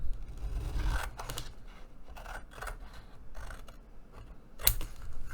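Scissors snip through a paper edge to miter it while a bento box purse is assembled from an Asian-themed digital paper kit, giving several close, crisp cuts in bursts with soft rustling between.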